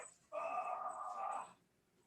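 A single drawn-out whimper from a 14-year-old female dog after slipping, high and whiny, lasting about a second in a quiet room, close by.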